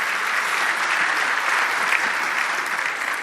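Audience at an annual strategy conference breaks into sustained applause, a dense, even clatter of many hands clapping for a few seconds.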